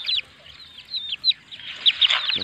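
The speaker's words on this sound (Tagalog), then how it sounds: "Ito naman po yung mga sisiw kong mga manok" Young chicks kept as backyard pets in the Philippines, recently recovered from a cold, give off thin high peeping and soft clucking calls in short irregular bursts, close by and fairly faint, with no talking.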